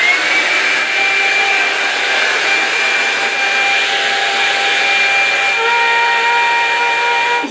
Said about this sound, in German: Ich föhne mir meine Haare jetzt lieber mal so weiter.